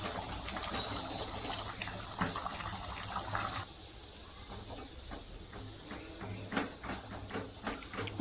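Bottle gourd and dried fish curry is mashed in a pot over a low flame with a wooden churner, the faint rhythmic knocks and squelches of the strokes sounding over a constant steamy simmering hiss.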